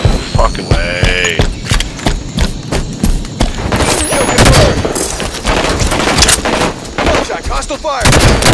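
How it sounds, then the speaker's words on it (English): Dense gunfire in Halo 5 multiplayer SWAT mode, with rapid shots and booming blasts cracking loudly throughout, and a voice speaking briefly amid the shooting. "Contact, hostile fire."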